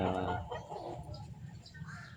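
A chicken clucks softly close by, a few low throaty calls over quiet background murmur.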